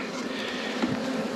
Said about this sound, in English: I'm gonna leave that hole open so a few bees can come and go